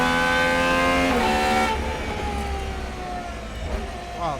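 The high-revving V12 of a Gordon Murray GMA T.50s screams up through the gears on track, sharp pitch sweeps rising and dropping with each shift, heard from inside the car under faint talk.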